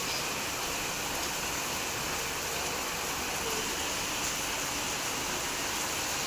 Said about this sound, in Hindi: बहुत भयानक बारिश हो रही है।